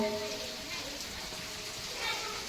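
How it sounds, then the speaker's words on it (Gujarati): Rain falls in a village as a faint, steady wash of soft hiss with no distinct drops or voices rising above it. "જો વરસાદ ચાલુ થઈ ગયો"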